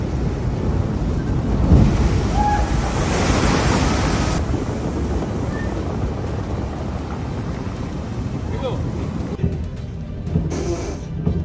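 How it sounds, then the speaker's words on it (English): Massive storm waves batter a French fishing boat at sea during Storm Goretti, a continuous roaring wash of surf and gusting wind noise that rises and falls, with a heavier crash near the start and a brief lull near the end. "A French fishing boat bravely pushes through massive waves during Storm Goretti, showcasing human courage against the power of the sea."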